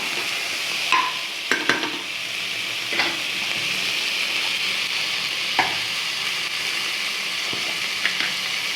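Tomato with ginger garlic paste sautéing in a pan for veg kurma, a steady sizzle of frying with intermittent stirring scrapes and light clinks of the spatula.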